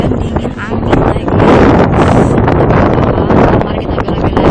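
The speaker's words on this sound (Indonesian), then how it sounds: "Hujan dingin, angin lagi." Strong wind and rain buffet the microphone outdoors at Mysuru Palace in India, a loud, continuous roaring rumble that fills the whole clip.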